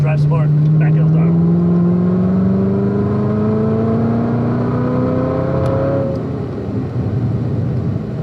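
A 2019 Chevrolet Corvette ZR1 accelerates hard on the Spring Mountain race track, its engine note climbing steadily and loudly through the revs before easing off, heard from inside the car, with voices talking over it.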